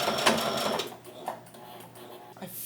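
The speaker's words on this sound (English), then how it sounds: "I frequently forget to like change the settings on my sewing machine." Sewing machine stitching a quilted jacket with cotton batting, a steady mechanical whir that is loudest and busiest at the start, then settles lower with a faint hum carrying on to the end.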